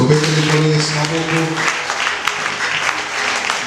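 A church congregation applauds in praise of the Lord at an evangelical mission gathering, a dense steady wash of clapping that starts under a sustained voice or tone and then carries on alone.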